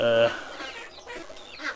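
A chicken gives a loud, short cluck up close among chickens and roosters, followed by softer clucks and faint bird noises.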